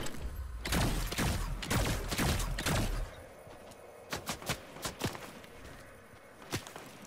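Gunfire in the Fortnite video game: a dense run of sharp shots for the first three seconds, then scattered separate cracks and impacts, fairly close and loud with no talk over them.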